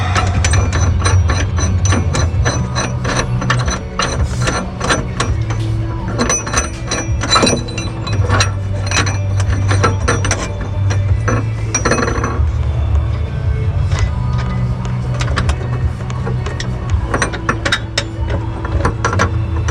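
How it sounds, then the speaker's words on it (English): A ratchet works a suspension subframe bolt loose on a Magnum car, with loud, rapid clicking runs, metallic clinks and brief pauses, close up over a steady low hum. "Then I got to remove this bolt for the subframe to get this bolt out."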